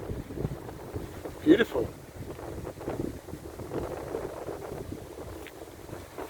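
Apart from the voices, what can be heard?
wind blowing from behind while walking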